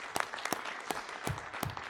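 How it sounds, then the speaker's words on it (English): Sparse, scattered clapping from a medical conference audience, a handful of separate claps spaced irregularly, fairly faint and distant with no talk over it. "So I would like to have an applause for Henrik Petrowsky to have done this really good conference."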